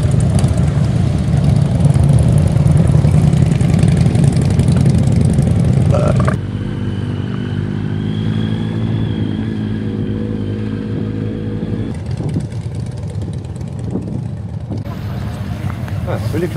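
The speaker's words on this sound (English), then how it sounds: "More bikes rolling in." Motorcycle engines idle and rumble steadily at a bike rally, with a shift partway through to a lower, smoother drone as more bikes arrive; no clear rev bursts stand out.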